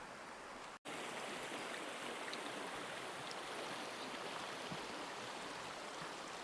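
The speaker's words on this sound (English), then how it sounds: "This beautiful creek that runs right along the trail." Creek running right alongside a forest trail near Suches, Georgia, a steady soft wash of flowing water, faint and continuous, with a brief dropout near the start.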